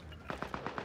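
A short burst of five evenly spaced video-game gunshots fires in quick rhythmic succession, moderately loud against a low background.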